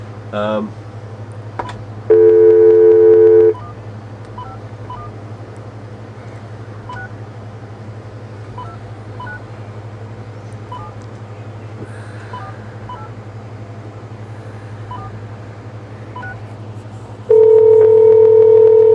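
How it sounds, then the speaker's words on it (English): Touch-tone telephone dialing: a held dial tone sounds, then a quick run of short DTMF beeps, and later another steady tone returns, all over a constant low hum with a brief voice sound near the start. "I could ring-a-ding the phone and see if they answered"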